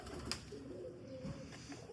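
Golden pigeons with dark beaks and dark wings give a brief, soft, low coo, heard faintly and close under quiet background noise.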